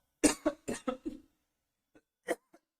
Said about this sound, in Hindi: पता नहीं अचानक से खांसी, अभी वीडियो बना रहा था तो स्टार्ट हो गया है